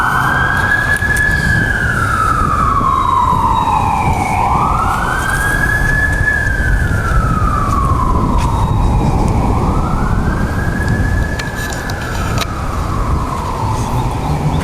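Fire truck sirens wail in long repeated rising and falling sweeps, loud and continuous, with wind and traffic rumble underneath, sounding outdoors near an old burial ground.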